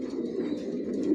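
Racer pigeons in a loft give a soft, low, continuous cooing, faint and close, with no talking over it.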